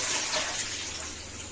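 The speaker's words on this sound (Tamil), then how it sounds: "தண்ணி ஊத்திக்கோங்க." Water pours steadily into a kadai (wok) set up for a double boiler, a continuous gushing splash, close and fairly loud, with no talking.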